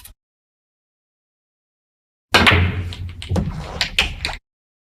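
Virtual Pool on PlayStation: a few sharp clacks of pool balls colliding and dropping into pockets, loud and close, a burst of impacts lasting about two seconds after silence.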